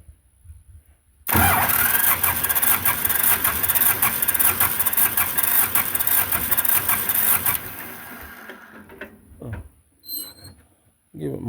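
Belarus 250 tractor with a fuel delivery problem cranks and catches, a loud close engine roar running steadily for about six seconds before cutting out, followed by brief talk and faint knocks.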